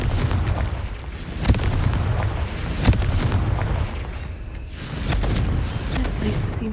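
Booming explosions from a Confringo blasting spell in a wizarding video game sound in a few sharp bursts over a loud, rumbling game background.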